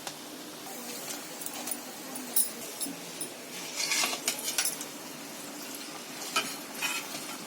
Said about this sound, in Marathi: तळून पण झाले आणि गॅस पण बंद केलाय